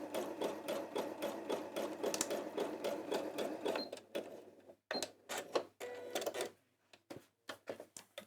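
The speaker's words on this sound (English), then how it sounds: "So that's my button sewn on" A sewing machine stitches on a button in steady, fast mechanical bursts, then stops and restarts in short choppy runs, close and fairly quiet.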